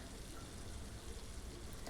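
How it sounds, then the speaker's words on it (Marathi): Moong dal and garlic fry in hot oil as a tempering for dill-leaf bhaji, a faint, even sizzle crackling steadily throughout. "तेलात ती देखील फोडणी करून घ्यायची व्यवस्थित"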